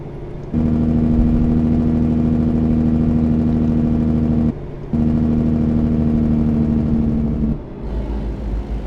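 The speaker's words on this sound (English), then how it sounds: "We have the N14 Jake brake sound" Cummins N14 Jake brake on a Kenworth W900 truck in American Truck Simulator, a loud, steady droning engine tone held for several seconds, briefly cut, then resuming before fading out.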